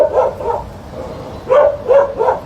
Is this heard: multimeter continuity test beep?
no